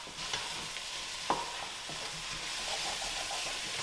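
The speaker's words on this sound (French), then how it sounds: "je gratte un petit peu comme ça dans ma casserole pour pas que ça prenne" Fish bones for a fish stock are stirred and scraped in a saucepan over a steady sizzle, with a few sharp scraping strokes close up and no talk.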